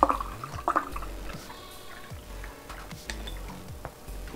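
Ice-cold malt stout brewed with pearl barley is poured into a pint glass, making close, uneven glugging and splashing liquid sounds with a few clinks, and no talking.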